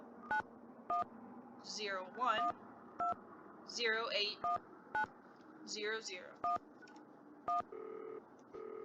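Telephone keypad tones from a Nancy Drew video game beep at regular intervals while a voice talks over them, followed by a short tonal signal at the end.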